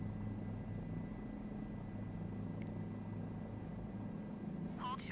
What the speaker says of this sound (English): I guess helicopters are easier to fly than I thought